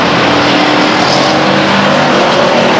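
Race cars roaring around Stockton 99 Speedway in 2000, a loud, continuous engine drone with cars close by and pushing hard for position, no voices over it.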